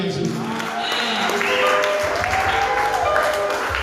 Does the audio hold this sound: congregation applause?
yes